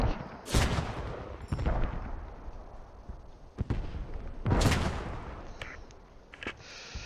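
Gunfire and blasts from a wargame video game battle at Stonne, with tank fire: four or five sharp, loud bursts spread across the stretch, separated by rumbling, crackling battle noise.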